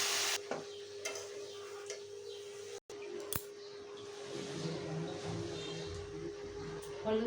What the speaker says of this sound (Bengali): এখন পাতাকপিটা দিয়ে দেবো।